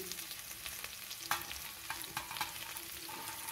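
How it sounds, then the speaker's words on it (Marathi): Chopped vegetables such as carrot, beetroot, beans and peas fry on a tava for pulao, a faint, even sizzle with a few soft stirring ticks and scrapes and no voices. "आता याच्यामध्ये आपण ह्या चिरलेल्या सगळ्या भाज्या टाकून घ्यायच्या"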